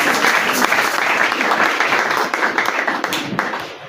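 A church congregation claps and cheers loudly at a French-language evangelical service, a dense, continuous wash of applause with voices acclaiming underneath for several seconds.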